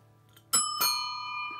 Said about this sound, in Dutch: Met een fietsbel